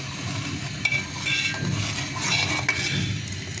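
Rice is tipped into boiling milk for payesh and stirred in a metal pot, giving soft scraping, bubbling and occasional sharp clinks of a spoon against the rim, close and fairly quiet, with no talk.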